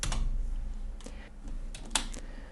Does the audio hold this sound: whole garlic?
no